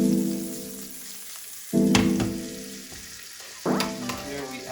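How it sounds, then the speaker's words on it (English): Garlic fries in butter in a very hot pan, sizzling steadily up close, with two sharp bursts of louder spitting as the pan is shaken and stirred. "Shake around the garlic here."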